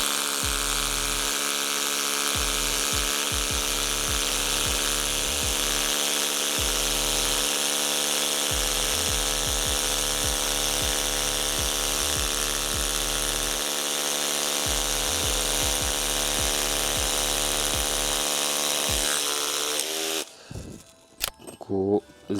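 A cordless HGT rotary hammer drill with a 10 mm bit whirs continuously in a steady high pitch through a concrete curb while rapid hammering pulses chatter underneath, then the machine stops and brief rattles follow.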